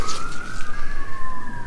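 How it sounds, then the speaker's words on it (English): A wailing emergency vehicle siren rises slowly and holds steady, heard from a moderate distance over faint outdoor background noise in a garden. "sorry for the sirens"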